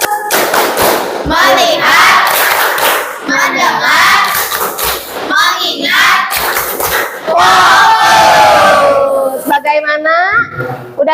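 Children in a classroom chant the 'tepuk fokus' routine loudly in unison, with voices rising and falling in sung phrases and occasional thumping claps, as a group performance close to the microphone.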